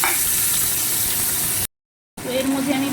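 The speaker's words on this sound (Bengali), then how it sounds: "পেঁয়াজটা কিছুক্ষণ ভেজে নেওয়ার পর আমি মাছগুলো দিয়ে দিলাম" Raw tengra fish hit hot oil with frying onions and sizzle loudly and steadily, broken by a brief silent gap before the sizzling picks up again with a clatter. There is no talk.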